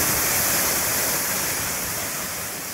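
Channat waterfall near Mangaon pours down in a steady, dense rush of white water, loud and close, unbroken throughout with no voices.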